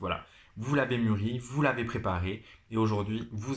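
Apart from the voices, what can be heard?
No everyday noises stand out.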